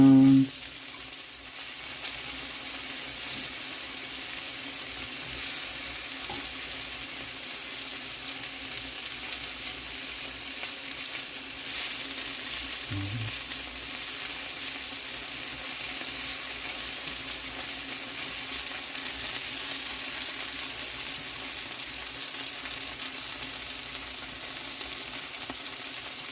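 Venison sizzles steadily as it browns in a pan and is turned to sear all surfaces. The frying hiss is loud, close and continuous for about 26 seconds, with a few brief stirring scrapes and no talking.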